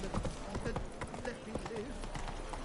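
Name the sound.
horse Roach hooves clip-clopping in video game The Witcher 3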